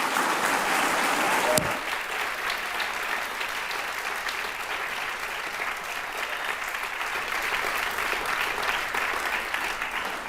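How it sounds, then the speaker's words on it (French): An audience at a French eloquence contest final applauds four candidates in steady, sustained applause filling the hall, with a sharp knock near the start. "je vous propose qu'on applaudisse déjà et de nouveau les 4 candidats"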